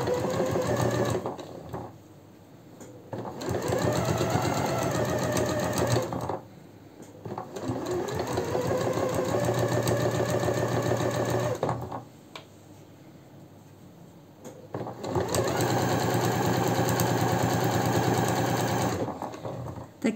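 A sewing machine stitches a facing seam on a summer jumpsuit, running in three long steady bursts with short pauses between them, close and loud, with no talking.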